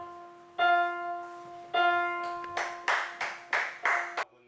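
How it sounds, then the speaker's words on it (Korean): Applause at a wedding ceremony in a long-running wedding hall in Changwon, Korea: a sustained sung or played melodic tone, then a run of sharp, evenly spaced claps in close succession, all fairly near and clear. "한 예식장에서 노래와 박수 소리가 울려 퍼집니다."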